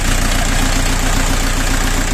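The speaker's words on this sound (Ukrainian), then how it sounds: "зразу відчувається ритміка роботи двигуна" A 40 hp mini tractor engine idles steadily, a loud, close, even rhythmic chug with no talk over it.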